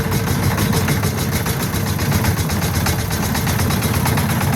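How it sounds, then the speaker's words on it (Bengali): A boat engine runs steadily and loudly as the boat departs from a sandbar near the Maulana Bhasani bridge, a dense continuous throbbing drone with rapid pulsing and no speech. "নৌকা স্টার্ট করবে এখন"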